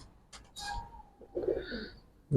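Pigeons coo in short soft phrases, a couple of breathy low calls close by with faint chirps between them in a quiet setting.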